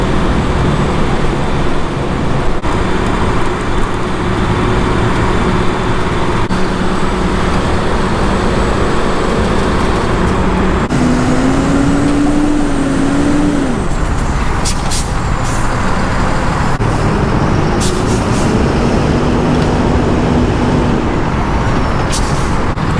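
A heavy truck engine labors and strains under load climbing out from beneath a bridge, its pitch rising and wavering, with air brake hisses and steady roadway noise throughout.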